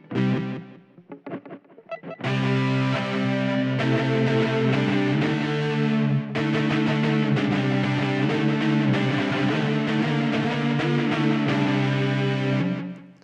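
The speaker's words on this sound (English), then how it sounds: "I like the polyphonic distortion" A Cantini electric violin played through a Boss SY-1000 with high-gain polyphonic distortion: a loud, thick, buzzing sustained tone with clearly separated notes shifting over several seconds, after a few brief plucked or bowed notes.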